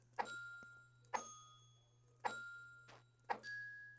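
Four separate bell strikes from Secrets of Grindea, each a sharp ding with a long ringing decay, played one after another as a short remembered tune, alone over a faint low hum.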